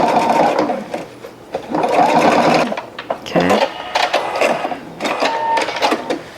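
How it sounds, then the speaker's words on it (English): Sewing machine stitching down a seam on jeans fabric for a bucket hat, loud and close, in bursts of rapid whirring with short pauses between runs. "I'm just going to stitch down using the side of the foot"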